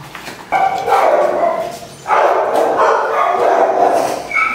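A rescued dog, wet from a night in the rain and with a bleeding wound it has been licking, gives loud, drawn-out whining barks and yelps in two long bursts, close by.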